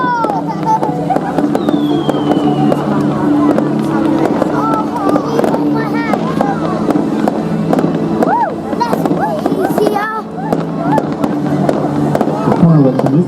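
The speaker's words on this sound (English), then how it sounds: "Fireworks are literally shooting left and right from either side" Fireworks crackle and pop continuously over a droning engine at a night air show at Clacton, UK, with crowd noise and voices talking throughout, loud and busy for the whole stretch.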